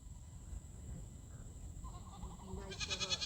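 A goat bleats briefly near the end on a 17-acre homestead, a wavering nasal call rising out of a quiet outdoor background.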